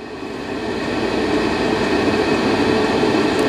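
A 4 kilowatt diesel heater in a camping trailer cycling up, a steady broadband roar and whir that swells slightly over the first second and then holds loud and constant.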